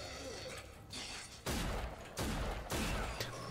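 Pistol shots at mutants in the shooter game Rage: a few heavy, booming reports spaced about a second apart over a dense, noisy game background.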